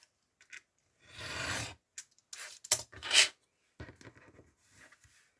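Material is cut by hand with a tool, giving a few close, short rasping strokes and snips between quiet gaps.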